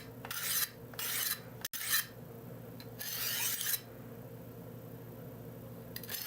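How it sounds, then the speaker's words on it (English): A knife blade is drawn across a field sharpener in several raspy strokes, each a short scraping rub separated by brief pauses, close and fairly quiet with no talking. "kind of see what we can do with just a field sharpener"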